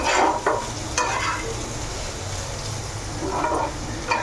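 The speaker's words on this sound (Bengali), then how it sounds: "এবার একটু আলু ভাজা করছি" Potatoes frying in a pan with onions, a close crackling sizzle broken by a few bursts of stirring and scraping, moderately loud, no talk.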